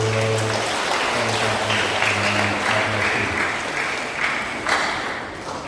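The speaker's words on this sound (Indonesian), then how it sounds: "Kita berikan tepuk tangan untuk Pastor" Steady applause from a crowd fills the room at a Catholic Mass in Indonesia, continuous and fairly loud, with a few brief tonal sounds early on.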